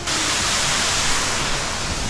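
Roadside waterfall in Santa Catarina, Brazil, a steady, loud, broadband rush of falling water that holds even for the whole stretch, with no talk over it.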